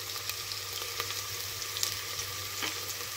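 Green chili sautés in a pan with ginger and garlic for a drumstick pulao, a steady close sizzle and crackle with soft stirring scrapes and no talk.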